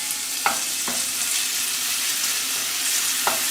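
Chopped tomato for channa chaat is sautéed in a pan over a slow flame, giving a loud, continuous sizzle with a few brief stirring scrapes and no voice.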